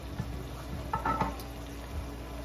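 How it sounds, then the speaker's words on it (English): Steak frying in oil in a pan as onions are added, a steady soft sizzle with a few light clatters and stirring sounds, close and fairly quiet. "I'm gonna go ahead and add my onions in"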